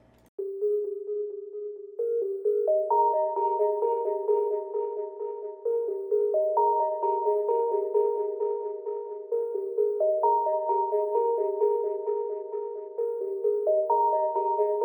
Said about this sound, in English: sort of just that super melodic, spacey bell/pluck sound.